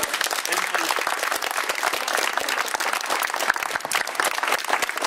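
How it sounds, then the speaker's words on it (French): Steady, dense applause from an audience, loud and continuous with no break throughout. "Je crois qu'on peut l'applaudir très fort"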